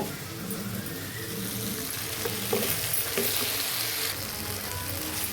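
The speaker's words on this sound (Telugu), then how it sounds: "ఇదిగండి రొయ్యలు ఇట్లా వేగిపోయినాయి చూడండి" Prawns sizzle in oil in a kadai, a dense steady hiss with occasional stirring scrapes and faint clinks, heard close with no talking.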